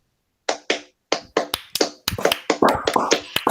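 A group claps in a rhythmic pattern, sharp hand slaps starting sparse and building into denser, overlapping bursts, close and bright with no talking.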